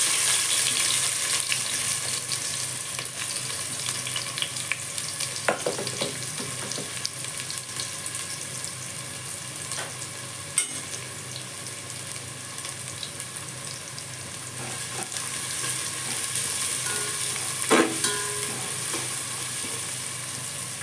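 Finely chopped onion fries in a pan with a steady, dense sizzle that lasts throughout, broken by occasional faint clinks and stirring.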